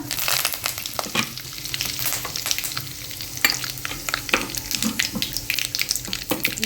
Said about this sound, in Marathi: तेल छान तापलं आहे आता याच्यात टाकते मोहरी कढीपत्ता